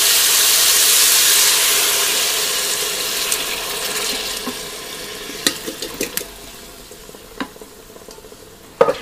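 Canned pineapple in syrup poured into a hot pan, a loud rushing sizzle that fades away into gentle bubbling, with scattered clinks and scrapes and no voices.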